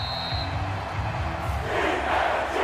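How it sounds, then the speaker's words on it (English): A home crowd in an NFL stadium in Madden 23, Commanders at Eagles, roars and applauds as a steady distant wash of cheering that swells slightly near the end. "And the home crowd applauding"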